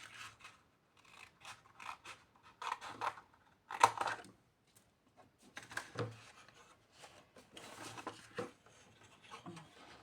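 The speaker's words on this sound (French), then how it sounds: "Ça on coupe." Scissors snip through paper strips for a collage on an egg-shaped craft structure, quiet close cuts in irregular bursts separated by short pauses.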